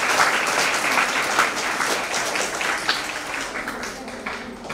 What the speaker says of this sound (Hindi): ताली थोड़ी धीमी हो गई है